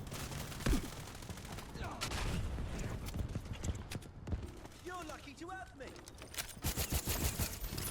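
Rapid gunfire bursts crackle through a Delta Force match, dense and busy across the clip, mixed with other game sounds while someone talks over the action.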